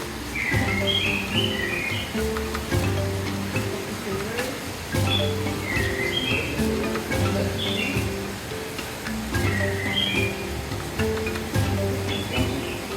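Crown pigeons at a zoo, deep repeated booming calls in low pulses, with brighter chirps of other birds and a rushing background.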